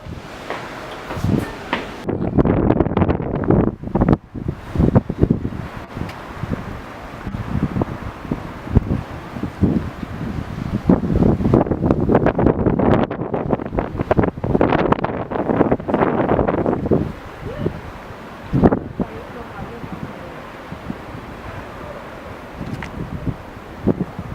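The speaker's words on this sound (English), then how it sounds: "Windy." Strong wind buffets the microphone on a terrace at the National Museum of Scotland in Edinburgh, in rough, rumbling gusts that rise and fall, with brief lulls between louder blasts.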